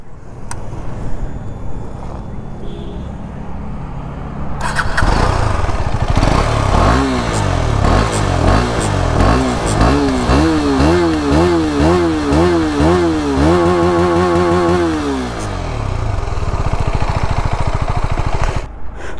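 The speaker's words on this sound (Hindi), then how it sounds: "तो चलिए मैं इस बाइक का एग्जॉस्ट नोट आपको सुनाता हूँ।" A 2022 KTM Duke 250 motorcycle starts and idles, then its single-cylinder engine is blipped through a series of sharp revving rises and falls, the exhaust loud and close, settling back toward idle at the end.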